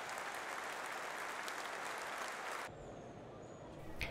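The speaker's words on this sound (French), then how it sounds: "Sous les applaudissements du public du stade de la Méditerranée, le rugby a rendu hommage à deux hommes, Louis Fajrowski et Pierre Camon." A rugby stadium crowd applauds at a Béziers versus Angoulême match at the Stade de la Méditerranée, broad sustained clapping that cuts off abruptly partway through, leaving quieter ambience and a faint tone.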